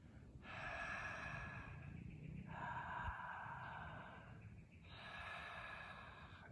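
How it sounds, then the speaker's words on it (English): Three long, audible breaths through a constricted throat in Ujjayi pranayama, a soft ocean-like rushing hiss with short pauses between, close and quiet with no talking. "that's the sound that we're going to be using for Ujjai breath"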